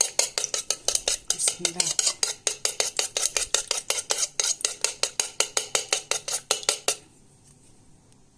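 Three eggs being whisked in a bowl with a utensil, a fast, steady run of rhythmic clinks and taps for about seven seconds before stopping abruptly, followed by quiet.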